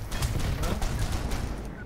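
Fast, crackling gunfire in the game Unfortunate Spaceman rattles off in several quick shots over a low rumbling background, fairly faint and brief.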